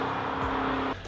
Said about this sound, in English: The car sounds great.